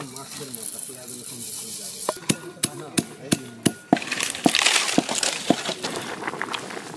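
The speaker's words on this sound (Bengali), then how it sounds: "ভাজা ধনে জিরেটা বেটে নেব, গুঁড়ো করে নেব।" Roasted coriander and cumin seeds are crushed by hand, giving a run of sharp, evenly spaced knocks followed by looser, irregular grinding hits, fairly close and moderately loud.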